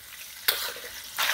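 Rice vermicelli for bihun goreng stir-frying in a pan, a soft steady sizzle broken by two louder bursts of hissing as the noodles are tossed and scraped.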